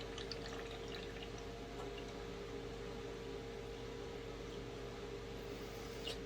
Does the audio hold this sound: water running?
yes